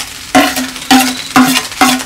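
Shrimp frying in a pan: four loud, evenly spaced stirring strokes scrape over a continuous sizzle, close by, with no talking.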